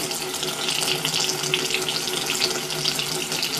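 Water rushes steadily from the drain of a water heater being flushed of residue, a continuous close hissing gush with no pauses.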